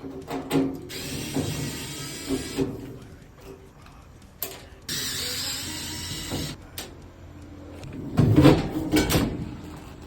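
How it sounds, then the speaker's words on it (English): Screwdriver removing the cover from an AC unit during capacitor replacement, with several bursts of metallic scraping and rattling, clicks and knocks between them, close and moderately loud. "Got our screwdriver. Gonna take the cover off."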